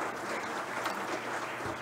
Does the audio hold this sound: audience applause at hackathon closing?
yes